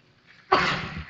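A single sharp sneeze bursts out during a city council Committee of the Whole meeting, close and loud after a quiet room.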